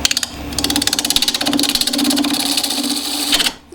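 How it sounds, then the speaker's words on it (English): Wood lathe turning a square plate, a half-inch spindle gouge cutting into a corner, producing a steady buzzing whir with rapid rhythmic ticking as the square edges strike the tool, close and fairly loud throughout. "I'm going to do that with the 1/2" spindle gouge because it's got a longer point"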